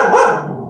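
Dogs in a home office let out a single loud, close bark that trails off quickly, with no voices in the clip.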